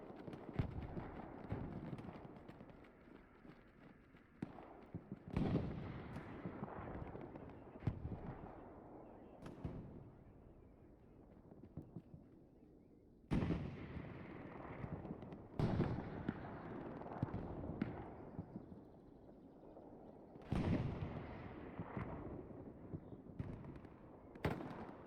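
Gunshots in the video game Hell Let Loose, sharp cracks and booms arriving in several clusters, some close and loud, others distant and echoing across an open battlefield, with quieter rumbling between volleys.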